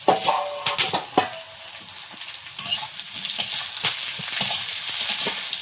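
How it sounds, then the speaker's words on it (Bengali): Sliced onion and green chilli fry in a pan of oil, the sizzle running steadily beneath a busy run of spatula scrapes and clanks against the metal. "পেঁয়াজটা আগে ভেজে নিচ্ছি"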